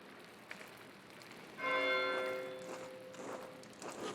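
A church bell rings in the medieval video game Pentiment, its tolling starting after a quiet moment and sustaining with fading, overlapping strikes that carry through the clip.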